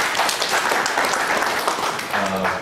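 Audience applause at a cooperative society workshop session, a steady wash of many hands clapping at close range for under three seconds, with no distinct voice over it.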